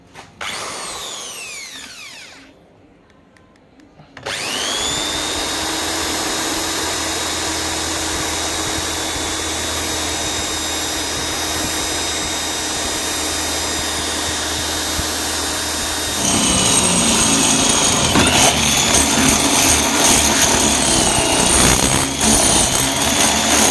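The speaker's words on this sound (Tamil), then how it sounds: "ஒரு வழியாக ட்ரில் பண்ணிட்டோம்" A power drill bores into a Mahindra Thar to mount a windshield bar, whirring steadily and loudly for many seconds after a brief pause, growing harsher and higher near the end, with no talking.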